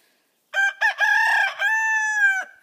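A backyard rooster crows once, loud and close, a drawn-out cock-a-doodle-doo with a brief stutter at the start, in a quiet moment beside a small hen enclosure.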